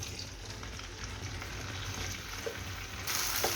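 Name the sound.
julienned okra frying lightly in oil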